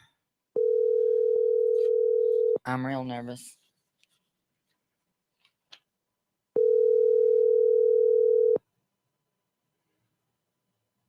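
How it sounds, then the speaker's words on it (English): A telephone ring tone sounds twice, each a long steady electronic tone, with someone speaking briefly in the pause between them. "we're on ring number 3"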